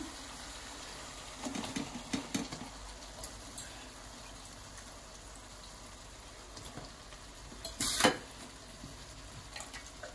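Boiled broad beans are tipped into a curry in a pan and stirred, giving a few soft clinks and scrapes and one louder clatter over a faint, steady simmer, close and quiet, with no talking.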